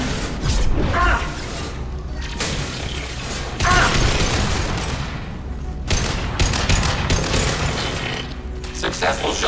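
Gunfire in a video game battle from Tali's loyalty mission, loud bursts of shots and heavy impacts coming in waves, with mechanical clatter and game voices mixed in.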